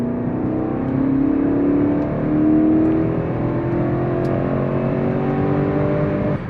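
A high-performance family SUV's engine and exhaust drone steadily up close, with a low rumble that rises slightly as it revs and then settles, and no voices over it.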